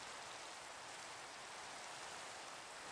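Steady, dense hiss of rain pouring in the Minecraft video game, a constant broadband wash with no breaks, fairly quiet and continuous throughout, with no voices.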